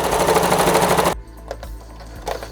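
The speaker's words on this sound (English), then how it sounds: "I'm gonna go around on this side and I'm gonna top stitch, catching all of the layers underneath." A sewing machine top stitches through all the layers of a patchwork quilt, running loud and steady with a fast rhythmic whir for about a second, then cutting off to quiet handling noises.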